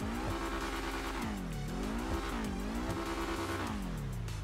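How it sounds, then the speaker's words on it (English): A car engine in GTA Online revs in repeated rising and falling sweeps, a steady mechanical drone throughout with no talking. "I'm gonna rev the engine."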